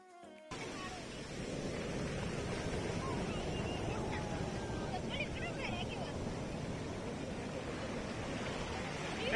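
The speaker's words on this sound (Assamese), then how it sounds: "ইমানে ডাঙৰ ঢৌ আহিছে" Big sea waves crashing on a shore, a continuous broad roar of surf with wind buffeting the microphone, starting abruptly after a brief quiet moment and staying steady throughout.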